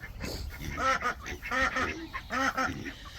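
Ducks quacking and honking in a farmyard, three loud close bursts of nasal calls in quick succession with brief pauses between them, no talk over the birds.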